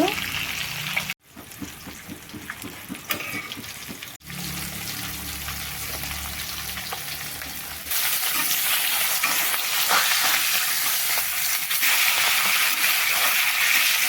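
Rohu fish pieces fry in mustard oil with steady sizzling and crackling, interrupted by two brief dropouts, then growing louder and denser in the second half.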